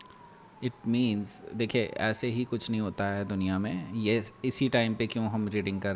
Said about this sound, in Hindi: पीछे अगर आपको आवाज़ सुनाई दे रही होगी एम्बुलेंस की